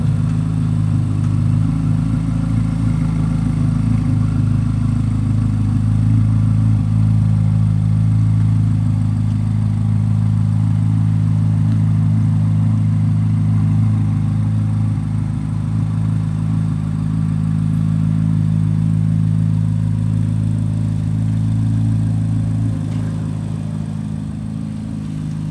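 A Chevrolet Corvette Z06, just out of long winter storage, idles on a cool day with a steady, loud low rumble and faint mechanical clatter, unchanging for the whole stretch and free of talk.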